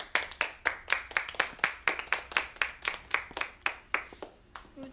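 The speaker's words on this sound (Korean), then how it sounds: "다 같이 박수!" Small group clapping together at a farewell for a departing part-time worker, a steady run of sharp, evenly spaced hand claps that stay fairly close and loud throughout.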